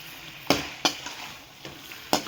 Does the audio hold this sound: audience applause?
no